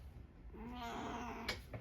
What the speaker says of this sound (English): I have to deal with a cat.